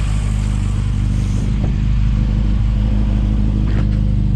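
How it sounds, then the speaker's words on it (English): A Mini race engine idles high on the choke in the cold, giving a loud, steady, throbbing rumble with a faint mechanical clatter running through it. "But she fired up pretty good for a race motor."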